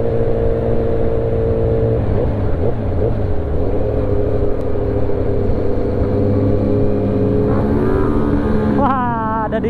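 A big sport motorcycle, a Kawasaki ZX10R or Yamaha R6, drones loudly and steadily up close before its engine revs upward sharply in the final seconds.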